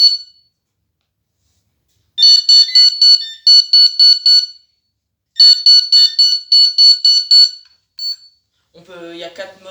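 Receiver unit for carp-fishing bite alarms sounds in bursts of rapid high electronic beeps, two long runs separated by silence plus short chirps, loud and close, followed by a brief spoken voice.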